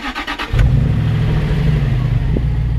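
A Jaguar XKR 4.2 V8 engine cranks briefly with a few rhythmic turns, then catches and settles into a loud, deep, steady idle up close.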